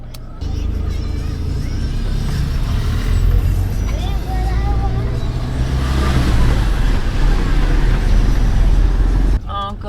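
A car overtaking on a busy road with many motorbikes coming the other way, its engine and road noise a loud, steady rumble from inside the cabin, with passing vehicles and voices heard over it.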